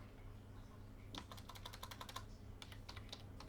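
Rapid clicking keystrokes on a computer keyboard typing into a Chrome search box on a Windows PC, a quick burst of taps followed by a short pause and a few more, quiet and close with no voice.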